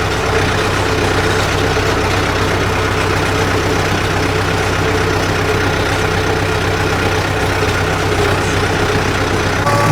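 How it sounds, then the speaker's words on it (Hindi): A tractor engine idles steadily in a muddy rice field after being pulled out. The close, continuous rumble holds an even tone for the whole stretch, with no talking. "ट्रैक्टर को बाहर निकाल लिया है"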